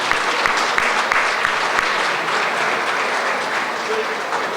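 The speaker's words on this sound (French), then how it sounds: "on pourrait donner une bonne main d'applaudissement à tous les bénévoles là" An audience at an evening gathering gives the volunteers a hearty round of applause, loud and sustained, with a few sharper individual claps standing out from the steady wash of clapping.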